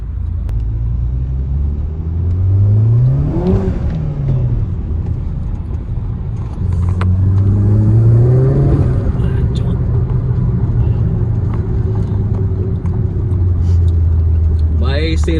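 A Skoda Laura vRS 1.8 TSI with a stage 2 tune accelerates hard twice, its engine note rising in sweeping pulls with loud rumble inside the cabin, while people talk over it.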